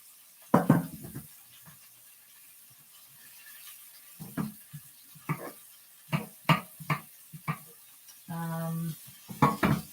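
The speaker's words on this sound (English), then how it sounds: "grapeseed oil, I'm going to put our onions and mushrooms and peppers." Onions, mushrooms and peppers cook in grapeseed oil in a pan, heard as scattered clanks and stirring scrapes of a utensil against the pan, with a brief steady sizzle near the end, close and fairly quiet with no talk.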